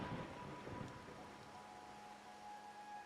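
Steady rain falls in a Wuthering Waves game scene, a soft, even hiss of rain on surfaces with a faint low rumble beneath, heard alone at low volume.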